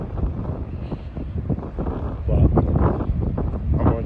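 Gusty wind buffets the microphone with low rumbling bursts, fairly loud and continuous throughout.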